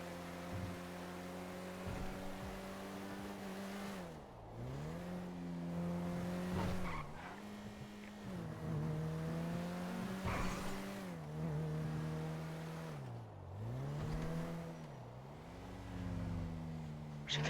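A car in a roleplay video game drives with a steady engine hum and tire squeal. Several skids come in waves as the pitch repeatedly dips and recovers over a faint background hum.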